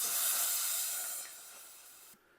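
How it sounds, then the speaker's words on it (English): A can of compressed air sprayed upside down lets out a steady, close hiss for about two seconds, fading slightly before it cuts off. "you grab a can of compressed air. And what you're going to do is basically just hold it upside down and spray this."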